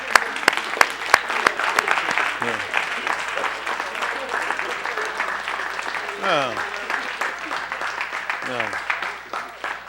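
A crowd gives a round of hand-clap applause during a livestream, a dense, steady patter of clapping with a few sharper claps early on, while people talk over it.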